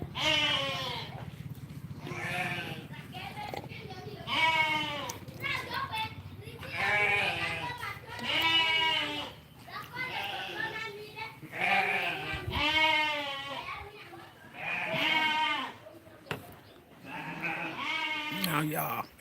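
A flock of sheep and goats herded by a shepherd boy in Ghana bleats repeatedly in overlapping, wavering calls, fairly close and continuous across the scene, with a few voices in the background.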